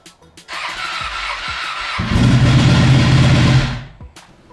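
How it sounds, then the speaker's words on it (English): Ducati Panigale motorcycle cold start: a whirring starter and rising whine catch into a loud, rough engine roar that holds for a couple of seconds, then cuts off abruptly. "I'm about to start the bike."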